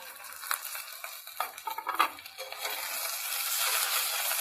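Eggplant, ridge gourd and drumstick pieces sizzle in a pan for shukto while a spatula stirs them, with irregular scraping strokes over a hiss that grows steadier toward the end.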